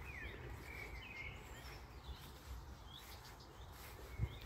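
Small birds chirping and trilling in tall uncut grass and bushes outdoors, several short high calls scattered through a steady faint background, with a soft thump near the end.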